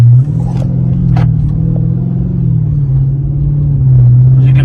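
A car pulls away from a stop sign and accelerates, its engine rumbling steadily up close with a low drone that rises slightly toward the end, no voices over it.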